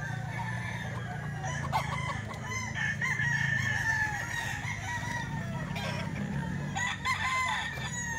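Several roosters crowing at a gamefowl yard, overlapping long crows and clucks at moderate distance, continuing steadily through the stretch.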